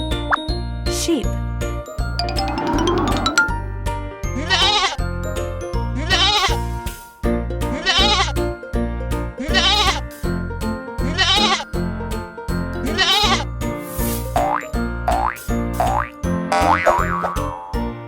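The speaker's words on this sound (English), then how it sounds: "Sheep." A cartoon sheep bleats in a children's learning animation, wavering bleats repeated over bouncy music with boing and plop effects, with no talk heard.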